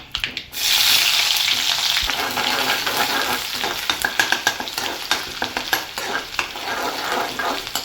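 Shallots hit hot oil with spluttering mustard seeds in a sudden loud sizzle that stays strong, while a utensil scrapes and clatters as they are stirred.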